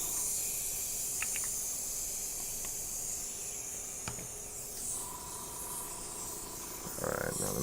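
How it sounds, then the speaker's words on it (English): Air leaking from an airbrush, a faint continuous high hiss running steadily throughout with a few small clicks and a brief louder burst near the end. "I've been having a leak on this airbrush. I'm pretty sure it's this airbrush. You hear that?"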